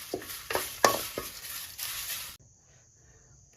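Leaves dry-roast in a pan over a medium flame, with a few quick scraping stirs and a light crackle. The sound drops almost to silence about two thirds through.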